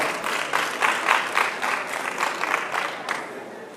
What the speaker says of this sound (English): Give Mr. Malone and his group a round of applause, please.